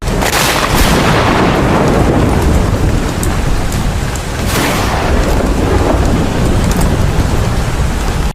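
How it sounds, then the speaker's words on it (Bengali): Heavy rain pours steadily on a rainy day, with deep rumbling thunder rolling through much of the stretch and a few sharper cracks, loud and continuous with no talk. "বৃষ্টির দিন বলে কথা"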